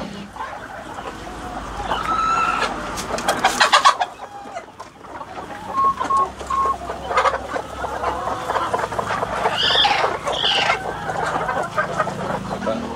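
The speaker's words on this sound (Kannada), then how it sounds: "ಸರ್ ಇದು ಕಾವೇರಿ ಕೋಳಿ ಅಂತೇಳಿ" Kaveri breed chickens cluck and call inside a long poultry shed holding hundreds of birds, a busy overlapping chorus of near and distant clucks with an occasional rooster crow.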